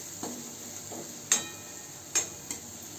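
Spices such as coriander powder and a homemade masala are stirred into a bean curry frying in a pan over low heat, giving a soft steady sizzle broken by a few sharp spoon taps and scrapes.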